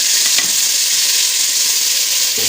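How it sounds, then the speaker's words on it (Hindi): Chicken frying with spice paste in a pan for haleem gives a steady, loud sizzle and hiss throughout, with a faint stirring scrape near the start and end. "अब मैं पेस्ट के साथ थोड़ा भून लेती हूँ।"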